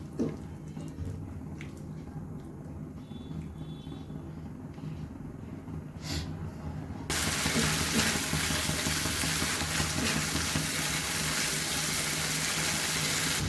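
Masala for an echor chingri (jackfruit and prawn) dish cooks in a pan with a little water added, a continuous sizzling hiss that turns noticeably louder and brighter partway through.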